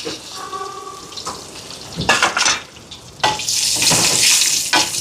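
Curry leaves and dried red chilies with a little urad dal and chana dal sautéing in a hot clay pot, heard up close as intermittent bursts of sizzling and stirring scrapes after a brief faint tonal hum.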